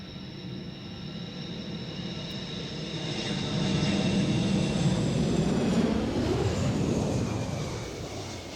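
Avro Vulcan jet bomber on its landing approach at an airshow, a broad, loud engine roar that swells to a peak midway and then slowly eases, with shifting tonal whine throughout.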